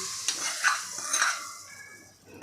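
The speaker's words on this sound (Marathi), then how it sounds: "तो तडका आपल्याला सगळा ह्या डाळीवर ओतून घ्यायचा आहे" Hot tadka is poured over cooked chana dal and sizzles loudly and close, a bright hiss with splattering pops that slowly fades.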